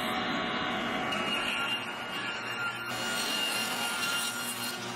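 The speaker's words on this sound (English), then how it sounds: "I'll trim a little bit off, flip it around, and then cut it again to its final width." A saw rips a cheap wooden board to its final width, making a steady, moderately loud cutting drone that runs the whole time with no pauses.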